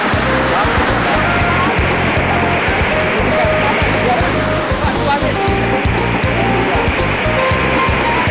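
Jumpa waterfall in Aceh Tamiang roars as a dense, steady wash of falling water, loud and constant throughout with a faint low rumble beneath.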